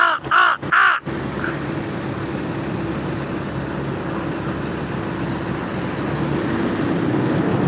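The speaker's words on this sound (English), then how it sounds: "Look, there goes one of my crow buddies." A crow gives three loud, close caws in quick succession, then falls silent as a steady outdoor rumble of passing road traffic carries on beneath.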